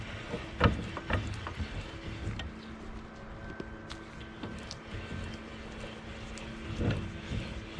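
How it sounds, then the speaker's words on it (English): A greased crank mechanism on a Peterbilt truck is wound back up by hand, giving repeated close ratcheting and creaking turns with metallic clicks in a steady working rhythm. "So let's go ahead and wind it back up."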